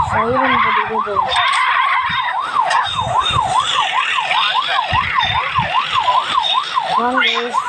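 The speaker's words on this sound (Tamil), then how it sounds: "வாங்க நம்ம இந்த சைரன் போட்டுக்கிட்டே போவோம்." A police siren in the video game Rope Hero Vice Town wails in rapid, regular up-and-down sweeps, loud and continuous, with vehicle noise and tyre sounds underneath and a voice talking over it.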